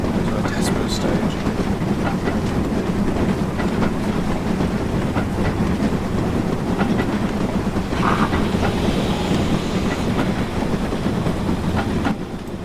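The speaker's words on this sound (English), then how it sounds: "Good job it is a freight train, not a express passenger or something I'm driving." A freight train in the Train Simulator 2020 game, on the Stainmore and Furness Line, rolls steadily with a continuous loud rumble and rhythmic clickety-clack of wheels over rail joints. The rumble is constant from start to end.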